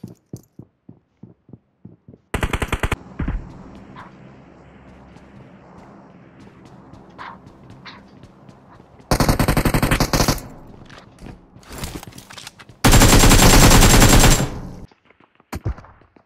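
Loud, close bursts of automatic machine-gun fire from the mobile battle-royale game PUBG Mobile come in several separate volleys, the longest near the end. Quieter clicks and rattles fill the gaps between them.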